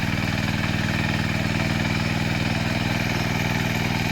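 A diesel power weeder engine runs steadily close by with a fast, even chugging pulse and a rough mechanical rattle, loud and alone with no voices.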